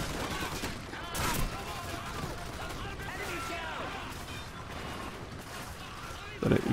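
An M2 Browning heavy machine gun on an enemy pickup fires in Call of Duty 4: Modern Warfare, with repeated bursts of gunfire and crashing impacts over a busy battle background, while someone talks over the action.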